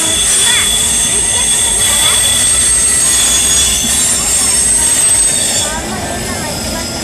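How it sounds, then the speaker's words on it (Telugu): A red train passes beside the ISKCON temple in Rajahmundry, a loud continuous rumble of rail cars with high squealing wheels and clattering that fades somewhat toward the end. "ట్రైన్ వస్తుంది."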